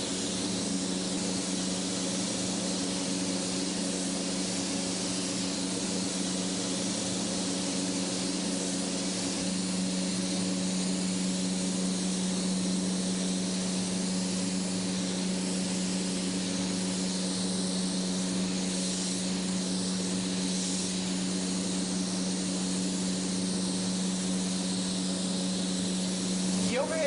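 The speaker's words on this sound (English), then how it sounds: "The overhead sound you're hearing are the fans to inhale the overspray of this candy" Overhead extraction fans pulling candy paint overspray from a spray gun, a loud continuous airy roar with a steady low hum running unbroken throughout, no talk over it.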